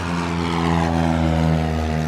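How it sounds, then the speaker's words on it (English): A traditional combustion-engine propeller plane takes off, its engine drone loud and steady throughout, holding a sustained harmonic tone with no voices. "What you just heard then was a traditional combustion engine plane taking off."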